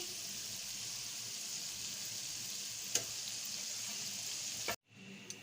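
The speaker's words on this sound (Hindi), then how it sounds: "अभी मैं आपको भिंडी फ्राई करके दिखाती हूँ।" Okra (bhindi) fries in hot oil with a dense, steady hiss of sizzling that cuts off abruptly near the end and leaves a quieter background.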